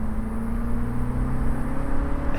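A 2025 MINI Cooper S Convertible accelerates at full throttle in go-kart mode, its engine droning loud and steady with a rising whine and a constant close rumble.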